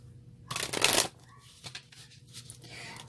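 A brief riffle of tarot cards being shuffled, a crisp rustling burst up close, then quieter handling sounds.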